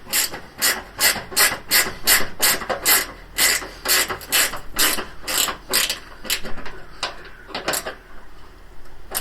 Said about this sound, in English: Which we'll then do up properly with a spanner.